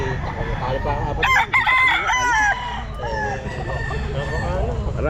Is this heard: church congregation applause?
no